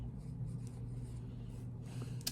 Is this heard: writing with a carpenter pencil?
yes